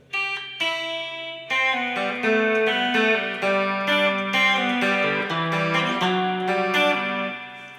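Clean electric guitar, a Stratocaster, picking a melodic chord pattern, shimmering with chorus and trailing delay echoes, played alone at moderate volume.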